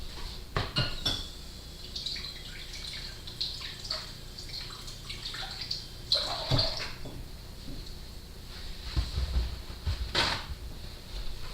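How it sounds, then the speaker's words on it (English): Kitchen tap runs over a steak being rinsed, with splashing and intermittent clatter of dishes, close by and uneven in level. "take the steak that you have and rinse it off real quick"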